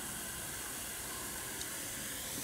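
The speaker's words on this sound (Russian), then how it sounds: "Ой, шипит, наверное, сильно газированное." A feijoa-flavoured carbonated soft drink fizzes as it is poured into a glass, a soft, steady hiss of bubbles at low level throughout.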